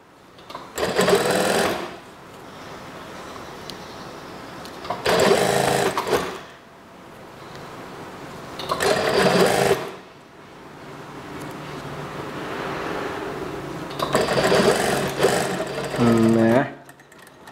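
An electric sewing machine stitches a fabric waistband strap for a plain school skirt, running in four loud bursts of steady whirring separated by quieter pauses, with a brief tonal whine near the end.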